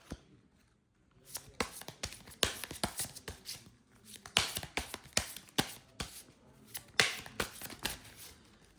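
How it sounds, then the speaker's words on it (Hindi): A romance angel tarot card deck being shuffled by hand, a series of close, crisp riffling bursts and soft card slaps in uneven rhythm, fairly quiet, with a little talk in between. "हम आज हमारा रोमांस एंजल वाला जो डेक है वो यूज करने वाले हैं। हम इसे शफल कर लेते हैं।"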